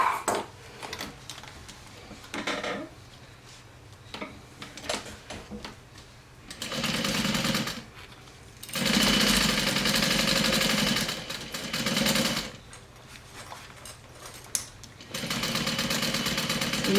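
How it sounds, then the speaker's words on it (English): A sewing machine top stitches around a Sallie Tomato SHAW backpack, running in several sustained bursts of steady mechanical whirring separated by short pauses, close and fairly loud. "And now I will just top stitch all around."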